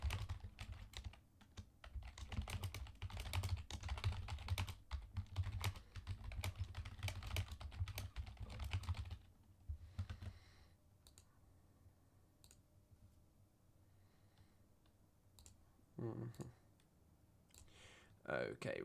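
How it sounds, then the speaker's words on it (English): Fast, dense clatter of typing on a computer keyboard runs continuously for about nine seconds, then gives way to sparse, scattered key clicks and quiet room noise, with a voice speaking faintly at times. "I've just started typing"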